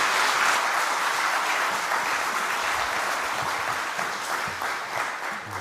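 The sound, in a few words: audience applause welcoming missionaries in church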